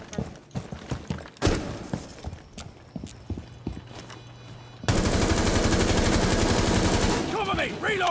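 Gunfire in Rainbow Six Siege, Operation Phantom Sight: scattered single shots and impacts early on, then a sustained loud burst of rapid automatic fire for several seconds, with faint game voice chatter underneath.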